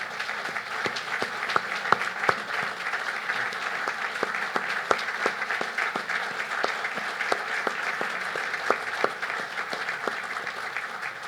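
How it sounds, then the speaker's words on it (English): Sustained applause from a crowd at a cancer center ribbon-cutting ceremony, honoring a standing family, with individual claps popping out of a steady, even wash of many hands. "we'll give them a round of applause"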